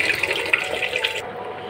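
Rice is washed under running water, likely from a tap into a vessel, with a steady splashing rush for just over a second before it cuts off. Close and alone, with no talk.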